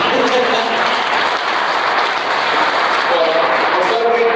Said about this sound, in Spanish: así que un aplauso también para David